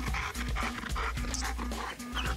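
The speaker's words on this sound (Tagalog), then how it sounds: "Tingnan mo gano'ng ka-eager yung aso." An eager Belgian Malinois at a Mondioring trial pants rapidly and steadily up close, with faint whimpering in the background.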